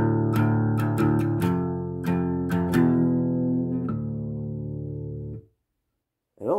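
An acoustic guitar in drop D tuning, played up close with open chords and rhythmic strums and a low droning bass, ringing for about five seconds before it stops, then one faint final strum.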